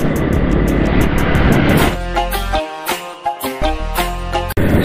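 A car overtakes on the road, with loud, steady engine and road rumble close by that shifts and swells as vehicles pass, and no talking.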